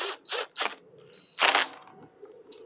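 Bolt being fitted and tightened on an MXR50 fun bike's front mudguard: close, brief metallic scrapes and ratcheting clicks with a squeak, separated by short quiet gaps.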